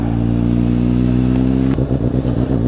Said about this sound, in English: Drive through on a motorcycle.